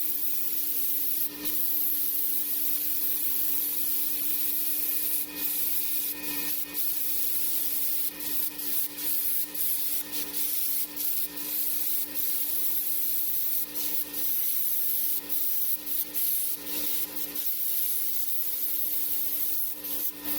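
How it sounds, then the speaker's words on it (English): A small plasma cutter slicing through 3/8 inch thick steel plate at maximum setting, giving a loud, continuous rough hiss for the whole stretch, broken only by brief sharp dips and pulses, with no talking. "That plasma cutter, a small one, she got her, but she was working the whole time."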